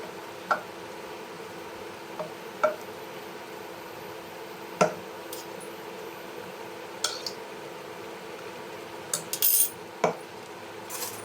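A utensil stirring igado, an Ilocano pork and liver dish, in a pan after green peas are added. Sparse metallic clinks and taps ring out every couple of seconds over a quiet background hum, with a short cluster near the end.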